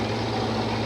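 Bigfoot number 7 monster truck with an exceptionally powerful new motor at a 1990 mud and monster event in the Seattle Kingdome, a dense, loud, continuous engine rumble filling the arena with no pauses.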